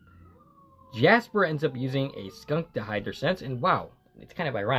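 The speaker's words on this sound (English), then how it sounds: "there's a siren going on in the background" A siren wails faintly in the background, a thin falling tone that is soon buried under someone talking steadily in the foreground.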